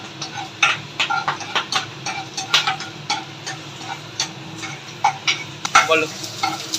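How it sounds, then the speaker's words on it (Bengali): Garlic and onion frying in a pan as the base for a pizza sauce, a steady close sizzle broken by frequent sharp scrapes and clicks of stirring, with no talking. "এই পেঁয়াজটা আর রসুনটা একটু ভাজা ভাজা হয়ে এসছে"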